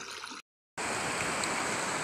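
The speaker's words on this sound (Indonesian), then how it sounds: "Jadi airnya mengalir kembali ke sungai ini," A small river runs high after a flood, giving a steady broadband rushing wash of flowing water, close and continuous, with a brief cut to silence partway through.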